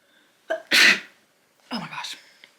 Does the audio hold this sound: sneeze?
yes